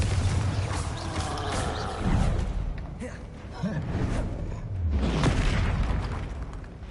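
A Confringo fire blast spell in the Hogwarts Legacy video game, heard as booming whooshes and bursts that swell repeatedly over a dense layer of game effects, with a voice calling out spell names.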